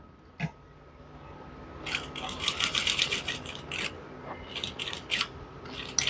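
A sewing machine stitching a coat pocket: after a single click, bursts of fast rattling stitches start and stop several times, close and clear in a quiet room.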